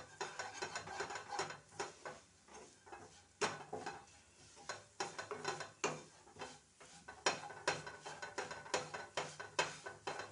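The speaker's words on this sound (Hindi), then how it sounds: "तो इस तरह से दबाते हुए भून लीजिए।" A spatula stirs and presses gram flour and onions roasting in a pan for stuffed pointed gourd, making quiet, close, rhythmic scraping and clinking strokes with brief pauses and no talking.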